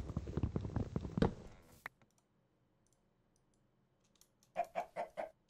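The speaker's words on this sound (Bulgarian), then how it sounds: "Да убия една кокошка." Chicken clucking in the Minecraft video game, a quick run of four or five short clucks near the end after a stretch of near silence, preceded by other game sounds and clicks.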